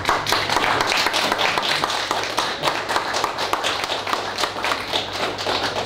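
An audience at a talk on global pacts claps for two speakers, giving a steady, fairly dense patter of hand claps that keeps going for several seconds, moderately close, with no talking over it.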